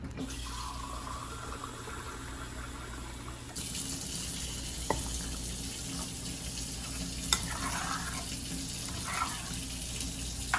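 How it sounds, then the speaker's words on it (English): Water pours steadily into a pan of tomato sauce seasoned with garlic powder for huevos rancheros, a continuous rushing trickle with faint sizzling and a few small clinks. "And then we're gonna put water in it."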